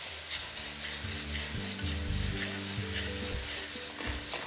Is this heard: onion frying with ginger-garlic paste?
yes